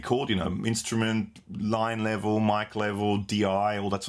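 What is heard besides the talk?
None of the usual background noises is heard.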